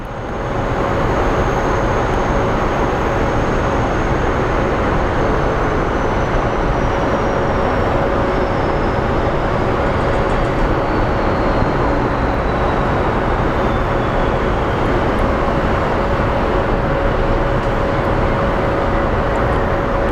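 Airliner landing on the runway at Phoenix Sky Harbor airport, a loud steady broadband roar of jet engines and rushing air that holds evenly throughout.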